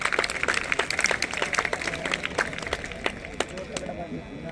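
Students and staff at a school Republic Day celebration break into loud, sustained applause, dense overlapping claps across the whole stretch, with a murmur of voices underneath.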